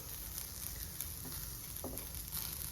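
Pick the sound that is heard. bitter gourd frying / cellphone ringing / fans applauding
bitter gourd frying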